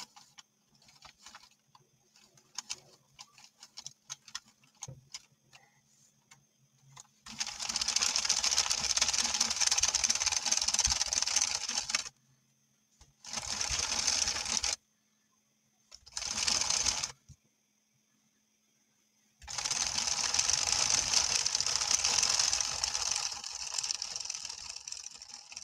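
A Sentro 22 circular knitting machine is cranked in several bursts, a busy, whirring clatter of needles that starts, stops and resumes, with quiet handling sounds between runs.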